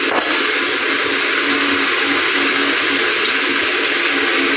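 Water pours steadily into a pan of aloo dum being cooked, a loud continuous rushing splash that holds evenly for several seconds, no speech over it.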